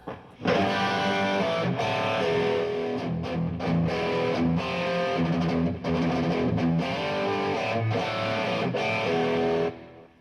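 Heavy distorted electric guitar chugs through a rhythm riff of thick, palm-muted chords with brief stops, loud and close, played through a pedal board.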